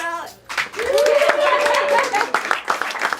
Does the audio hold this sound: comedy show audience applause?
yes